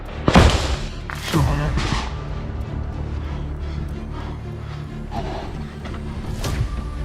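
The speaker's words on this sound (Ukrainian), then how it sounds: "Постріл!" Two heavy, booming weapon shots about a second apart during combat in Donetsk region, each with a sharp thud and rumbling tail, followed by ongoing low noise and scattered knocks.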